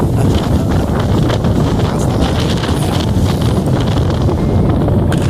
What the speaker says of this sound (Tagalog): Lakas talaga ng hangin, Brad.